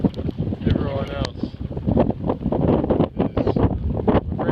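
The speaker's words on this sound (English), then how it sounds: "And it's a bit windy." Wind blowing outdoors, gusting and buffeting the microphone in steady rumbling bursts, with people's voices talking over it.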